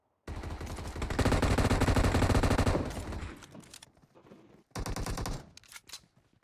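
Rapid automatic gunfire from a shooter video game, a dense loud burst of shots lasting a few seconds, then a short pause and another quick volley, with no talking over it.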